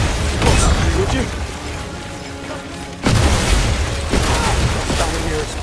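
Barrels blowing up in a 007 video game, heavy booming blasts with crackling debris, one burst early and another big blast near the middle, set in a dense, noisy game mix.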